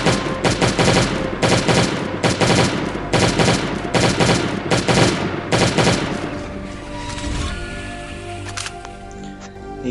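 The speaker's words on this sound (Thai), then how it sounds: "ยิงเป็นชุดเหมือนเดิมนะครับ" Rapid bursts of automatic gunfire in the mobile survival game Last Day on Earth, loud repeated volleys for the first several seconds, then quieter scattered shots and game sounds.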